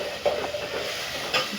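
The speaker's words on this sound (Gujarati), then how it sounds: "જો મસ્ત એનો ડુંગળી અને ટમેટાનો બેનો વઘાર કરી વાળો" Onion and tomato tempering for a Gujarati sev tameta curry sizzling and being stirred in a pan, a low steady frying hiss with a couple of brief stirring scrapes, outdoors in the evening with no talk.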